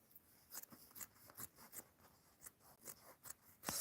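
Scissors trimming down a fabric seam allowance while sewing: a quiet, close sequence of about a dozen crisp snipping strokes at a steady, slightly uneven rhythm, with no speech.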